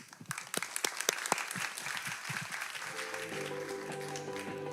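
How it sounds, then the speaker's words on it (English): Audience applause after a startup pitch at a tech conference, sharp individual claps at first thickening into steady clapping, then fading into quiet background music in the last couple of seconds. "Let's give one more round of applause to Very."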